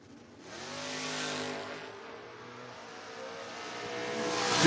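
A pair of drag racing cars, a Nova and a Mustang, roar off the line at a footbrake bracket race, the engines swelling loudly, easing slightly as they pull away, then building again into a rising, distant howl.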